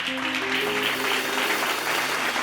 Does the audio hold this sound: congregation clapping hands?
yes